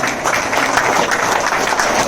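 Steady, dense clapping from an audience at a swearing-in ceremony for newly elected panchayat officials, a close, continuous round of applause with no talking.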